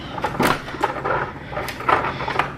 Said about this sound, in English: if I could figure out how to unlock my own door